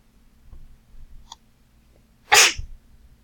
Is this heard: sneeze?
yes